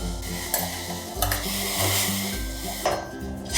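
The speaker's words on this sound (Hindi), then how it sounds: "और इसे अच्छी तरह से घुलने तक हम इसको खदकने देंगे" Masala ginger tea with jaggery bubbles in a pot on the stove, a steady close sizzle and simmer broken by a few brief clinks of a utensil against the pot.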